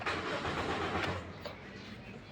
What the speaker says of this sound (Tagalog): susubukan nating paandarin kung magkakrank ba siya